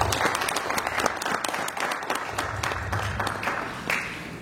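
An audience at a lecture bursts into brisk, fairly close applause, many hands clapping in a dense, uneven patter that holds steady throughout.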